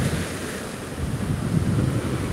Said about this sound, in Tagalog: Ito na lang po medyo malakas na hangin at tawag dito, malalaking alon na lang po ang aming nararanasan